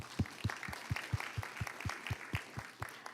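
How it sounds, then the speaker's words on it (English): Sparse, slow clapping from a small audience at a panel session, about a dozen distinct claps spaced evenly apart, fairly close and moderate in volume. "So applause for all of you."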